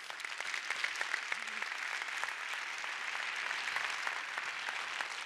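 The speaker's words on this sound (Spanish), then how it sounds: "vamos a dar un fuerte aplauso a todos por hacerlo posible" Conference audience applause fills the room as a dense, steady wash of many hands clapping, continuous and fairly distant, with no talk over it.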